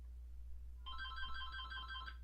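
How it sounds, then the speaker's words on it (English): A mobile phone ringtone plays a repeating electronic melody for over a second, starting abruptly over a steady low hum, with no one speaking. "my phone's ringing"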